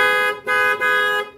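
A car horn blares loudly up close in three quick blasts that run together, with brief dips between them.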